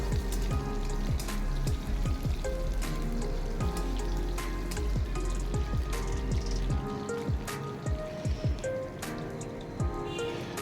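Cut pointed gourd (potol) pieces fry in hot oil in a pan with a constant crackle and dense spattering pops, close and steady throughout, with no one talking.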